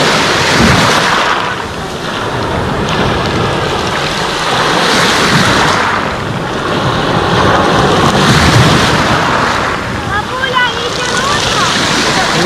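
Sea waves wash and break along the shore at Lazarevskoye beach, a loud continuous roar swelling in repeated surges with wind buffeting the microphone, and someone talks over the surf.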